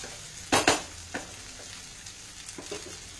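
Salt is stirred into mint rice in a pan, with a soft background sizzle and two sharp close scraping clatters of a spoon against the pan, followed by a few lighter stirring strokes, with no talking.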